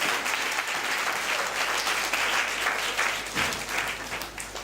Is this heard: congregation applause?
yes